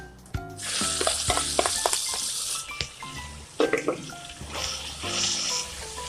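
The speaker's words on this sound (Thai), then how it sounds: "นี่เราเอามาผัดค่ะ" Tamarind chili paste stir-fried in a pan sizzles loudly, with scraping stirs and occasional clinks of the utensil against the pan, the frying hiss swelling and easing across the stretch.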